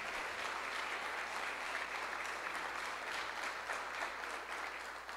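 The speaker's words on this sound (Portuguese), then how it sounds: "Pode, aplauda Jesus" A church congregation applauds steadily at a Sunday service, a dense, even wash of clapping that holds at a constant moderate level throughout with no voices breaking through.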